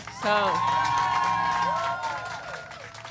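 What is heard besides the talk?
audience applause for group standing in the rain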